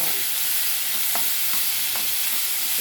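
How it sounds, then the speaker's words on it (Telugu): Onions and green chillies with a little salt fry in a pan, a steady broadband sizzle that holds close and even throughout, broken by a few soft stirring scrapes. "ఎర్రగా వేగిన దాకా వేయించుకున్నాం"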